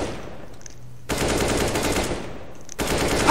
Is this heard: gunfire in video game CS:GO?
yes